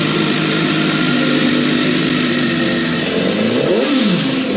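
A motorcycle engine turns over, catches and idles loud and close, its steady drone rising in pitch with a revving throttle near the end.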